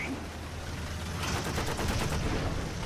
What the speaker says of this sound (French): En plus, maintenant, on a une mitrailleuse dessus.